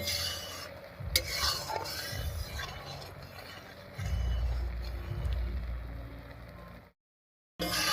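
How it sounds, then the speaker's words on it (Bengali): A spoon keeps stirring aloe vera through oil heating in a pan, giving a soft scraping, rasping rhythm over a low rumble that swells midway, then breaks into a brief silence near the end. "এই তেলটা জাল করার সময় অবশ্যই নাড়ানোটা বন্ধ করা যাবে না নাড়াতেই থাকতে হবে"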